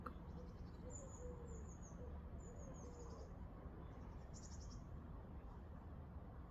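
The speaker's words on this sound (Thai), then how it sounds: "ฟังเสียงนกจิ๊บเนาะ" Faint high bird chirps repeat in short trills over a steady, low outdoor hum, distant and quiet.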